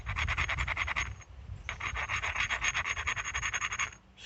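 An obsidian flake's edge is ground with steady back-and-forth rasping strokes, close and rhythmic, pausing briefly before the scraping resumes.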